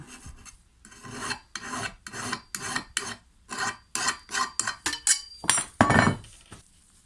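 Hand file rasping the edge of an Oregon mulching blade for a brush cutter, a steady run of about fifteen short, gritty metal strokes in quick rhythm, close and fairly loud with no talk.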